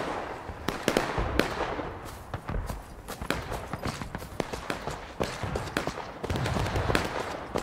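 Musket fire in the Outskirts: War of Brothers game. Many sharp shots crack out irregularly, some near and loud and others fainter, in a continuous scattered volley over a busy background.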